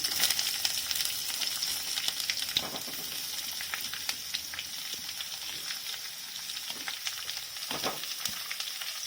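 Long-sliced onions frying in hot oil, with curry leaves already in the pan, for a Chettinad onion kosu: a dense, continuous bright sizzle with crackling spatters and a few louder stirring scrapes, close and without any talking.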